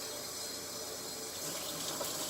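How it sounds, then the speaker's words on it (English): Cold water runs from a kitchen tap in a steady, close, even broadband rush that holds for a couple of seconds with no voices over it. "And now to that you're going to add 1½ cups of cold water out of the tap."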